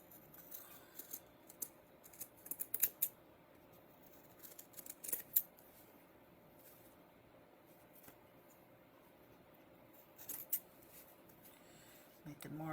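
Scissors snip through fabric in short, scattered bursts with quiet gaps, faint and close, while someone talks lightly between cuts.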